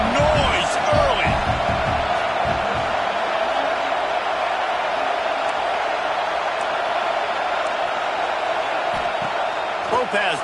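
Dense stadium crowd roar from a college football video game, NCAA 26, Georgia Tech versus Texas A&M, a steady loud wash of cheering that holds through the whole stretch with a commentator's voice over it.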